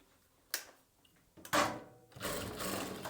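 A sewing machine stitches the hem of a churidar bottom in short bursts, close and fairly loud, with a brief click and pause between runs and a longer steady stretch at the end.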